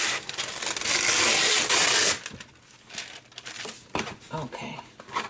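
Wax paper is crinkled and rustled up close, a loud dense crackle for about two seconds, then sparser handling rustles and light taps, with some talk in the background.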